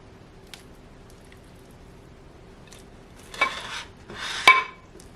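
Steamed whole pumpkin flesh is spooned out of its skin, a quiet stretch followed by two short bursts of soft scraping and squishing with a light utensil click, close by and without speech.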